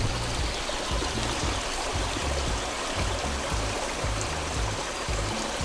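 Steady broadband rush of a flowing river, continuous and fairly close, with bubbling low gurgles throughout and no voices.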